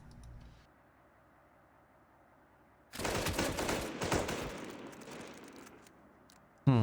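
Sustained burst of automatic gunfire from units in the retro real-time strategy game Panzer Strike, a dense rattling volley lasting several seconds after a quiet stretch, fading toward the end before a sudden loud hit.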